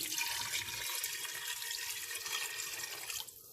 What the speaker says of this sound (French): Et je couvre la viande à environ 1 cm du haut avec de l'eau froide.